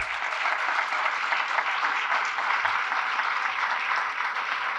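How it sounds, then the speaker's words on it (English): Steady, dense applause from an awards-ceremony audience at the Bold for Blue Awards, acknowledging absent honoree Baird, continuous and fairly loud throughout. "let's give them a round of applause."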